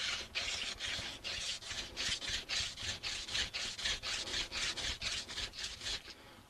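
A wooden hand-drill spindle spun between the palms for friction fire gives a close, steady run of rhythmic rasping strokes, roughly three per second, each a dry scraping rub of wood on wood with no talk.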